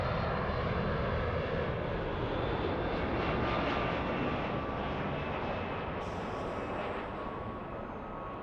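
A Boeing 757 jet arriving at LAX makes a loud, steady broadband roar that fills the whole stretch, easing slightly toward the end with a faint high whine near the finish.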